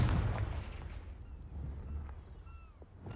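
A Confringo fire blast spell bursting in Hogwarts Legacy, a deep rumbling explosion with a low boom tail over game ambience, fairly subdued and without speech.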